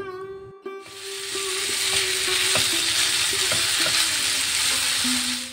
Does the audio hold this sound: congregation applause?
no